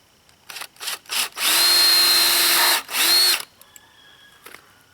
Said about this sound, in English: and drill a hole.